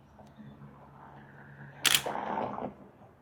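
A Nikon Z5 II shutter fires with a Viltrox AF 28mm F4.5 lens fitted, one sharp mechanical snap followed by a short burst of rattling clicks, close and crisp over a quiet room.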